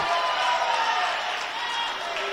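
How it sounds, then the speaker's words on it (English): Crowd at an All Native senior men's basketball semi-final booing a referee's call, a dense, sustained roar of many voices filling the gym at close, loud level. "As you hear the Kitkatla crowd. Boo Birds coming out, not agreeing with that call."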